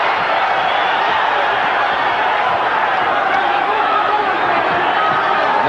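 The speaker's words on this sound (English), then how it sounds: "The crowd understandably enjoying it." A boxing arena crowd at a title fight between Daniel Zaragoza and Paul Banke roars in a dense, continuous wash of cheering and shouting, with a commentator's voice running over it.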